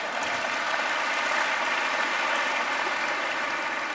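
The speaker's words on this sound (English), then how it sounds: "Give yourselves a round of applause" A large convocation audience at McKinney ISD gives itself a round of applause, an even, sustained roar of many hands clapping at once with no voices over it.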